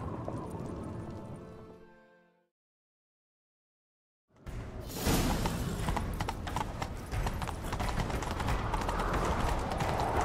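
Rapid horse hooves clip-clop at a gallop in The Witcher 3 after a brief silence, dense and steady, with a faint whinny early on.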